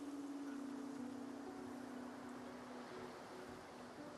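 Ocean waves ambience from Divinity: Original Sin 2, a soft, steady wash of surf with a faint low hum, quiet and continuous with no speech.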